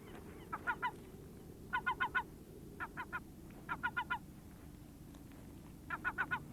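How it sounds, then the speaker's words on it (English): Glaucous gulls in the Arctic giving raucous, honking calls in repeated clustered bursts of three or four notes, moderately distant over a low steady background rumble. "The raucous, aggressive glaucous gulls are anxious for a share."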